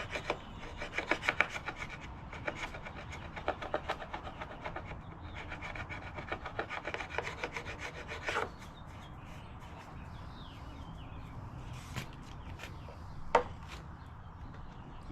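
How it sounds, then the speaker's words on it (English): Rapid, scratchy rubbing strokes as tape is scrubbed off the plastic evaporator housing of a 1987 El Camino with alcohol, bursts of close scraping separated by short pauses, then quieter handling and a few knocks. "I'm going to have to use some alcohol on this if I want to get this tape off."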